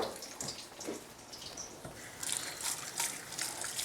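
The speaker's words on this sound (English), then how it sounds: "Got to remember, wash your hands." Tap water runs while hands are washed in a home kitchen during cooking, a steady trickle and splash that swells louder toward the end, with no talking over it.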